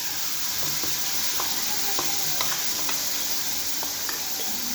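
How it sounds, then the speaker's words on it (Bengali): Spice paste sizzles in hot oil while making chicken kofta, a steady close frying hiss with soft stirring ticks and scrapes scattered through it, no voices over it. "তেলের মধ্যে আমি দিয়ে দিলাম মশলাটা"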